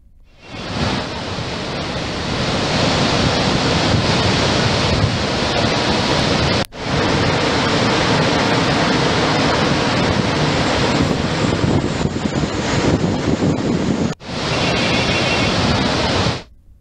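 Floodwater of the Krishna river pours through the Jurala dam project during heavy inflow, a loud, steady, close roar of rushing water with no talk, broken twice by brief cuts.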